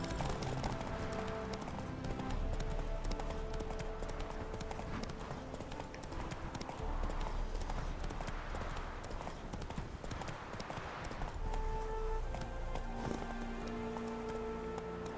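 Wild horses galloping in The Witcher 3, a busy continuous clatter of hooves with rain-like patter and game ambience mixed in, steady and fairly loud throughout.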